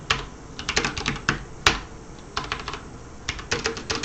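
Bursts of typing on a computer keyboard while writing main code, clustered keystroke runs with brief pauses between, clear and close with no talk.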